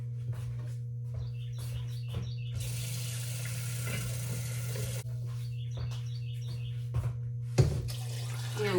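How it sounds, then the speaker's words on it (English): Water is poured into a simmering pot of bean and collard greens soup: a few seconds of splashing flow rises over a low steady hum and scattered kitchen clinks, then stops. "I'm gonna add a little more water."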